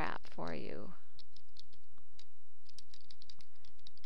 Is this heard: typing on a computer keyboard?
yes